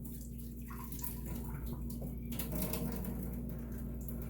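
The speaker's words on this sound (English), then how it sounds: "Okay, drain water." Hot water from a pot of boiled, mushy potatoes is drained into a sink, giving a steady, close rush of pouring water that carries on without a break, with a constant low hum underneath.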